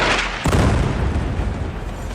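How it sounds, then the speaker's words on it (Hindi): A bomb blast in Beirut, recorded as a loud, sustained low rumble that swells after a short initial burst and rolls on heavily to the end, with no voices. "बेरूत में ये धमाका तब हुआ जब पूरी दुनिया नेतन्याहू और हिजबुल्लाह के बीच युद्ध विराम के लिए एड़ी चोटी का जोर लगा रही थी।"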